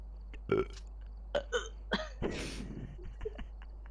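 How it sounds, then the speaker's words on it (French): A person burps repeatedly, with several short, close belches and throaty gulps spaced irregularly over a few seconds, quiet between them and over a low steady hum. "D'arrêter de roter parce que je suis en live."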